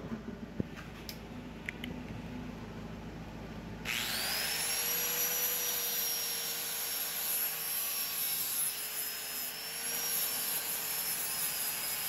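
An angle grinder buffs thin stainless steel welds, spinning up abruptly after a few quiet seconds into a steady, loud high-pitched whine with a rough grinding rasp, holding its pitch to the end.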